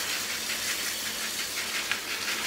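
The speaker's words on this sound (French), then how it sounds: "donc je vais déjà faire chauffer du beurre." Butter heating in a pan as the start of a quinoa risotto, a steady close hiss of fine sizzling with no voice over it.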